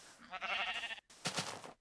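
Two bleats from a sheep in the Minecraft video game, a long wavering one followed by a shorter one after a brief gap, close and clear, with no talk.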